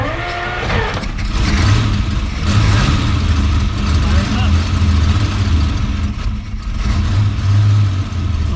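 A Ferrari 250GTE's engine is cranked and fires up, settling into a loud, steady, close running note with slight pulsing, while someone talks over it.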